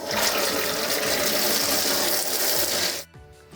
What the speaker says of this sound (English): I'm gonna go ahead and turn on my T-adapter to allow water to flow